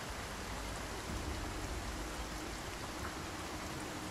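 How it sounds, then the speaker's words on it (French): Steady, even rain hiss in the video game Project Zomboid fills the whole stretch, a dense wash of noise with no talking. "Voilà, la pluie s'intensifie."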